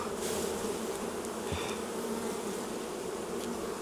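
Honey bees buzzing around an open hive box during a beekeeping inspection, a dense, soft, continuous swarm hum with a few individual bees passing closer, no talking.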